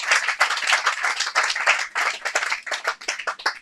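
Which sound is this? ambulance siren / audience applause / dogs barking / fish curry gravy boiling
audience applause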